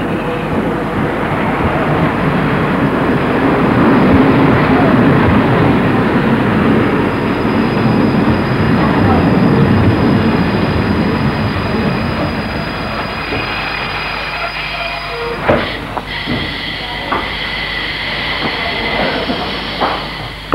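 A train pulls into a station with a loud, steady rumble and rolling wheel noise that eases off as it slows, followed by a few sharp clanks and brake or door sounds near the end.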